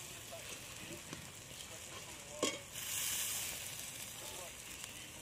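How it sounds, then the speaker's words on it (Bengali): Turmeric, chili powder and salt fry in oil in a pan for a fish curry, a faint sizzle with stirring and scraping sounds, one sharp clatter midway, and a brief voice in the background. "মশলাটা ভালো করে কষিয়ে নেব"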